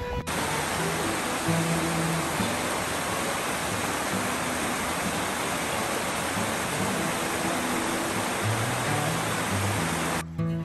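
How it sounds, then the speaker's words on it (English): Small waterfall in Lauterbrunnen Valley, Switzerland, a steady broadband rush of falling water, continuous and even for about ten seconds, fairly faint and without talk. "you can see there is a small waterfall behind me. You can hear the sound."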